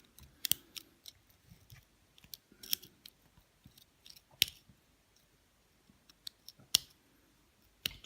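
A hobby knife prying small magnets out of the holes of a plastic model kit gives sharp, scattered clicks and scrapes, close and fairly quiet, with pauses between them.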